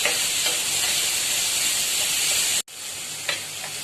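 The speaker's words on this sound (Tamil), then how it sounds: "இஞ்சி பூண்டு பச்சை மிளகாய் வதங்கணும்" Ginger, garlic and green chilies sautéing in a pan for salna, a loud continuous frying hiss with faint stirring taps, broken by one abrupt gap before the sizzle resumes.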